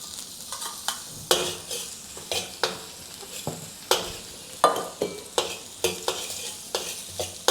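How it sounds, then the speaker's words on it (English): Sliced white scallion sizzling with garlic and ginger in a wok over low heat, with a spatula scraping and stirring in regular strokes and a steady frying hiss between the clanks. "The white section of the scallion or green onion."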